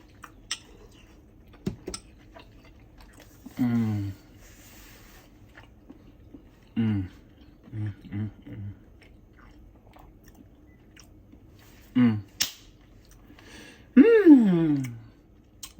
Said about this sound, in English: Let's go in for a taste test.